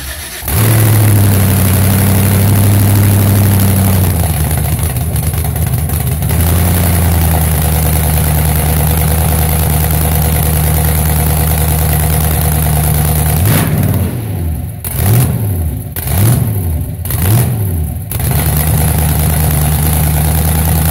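A freshly built L33 V8 fires up for the first time and settles into a loud, steady idle with a deep rumble, then gets a few sharp throttle blips near the end. No one talks over it.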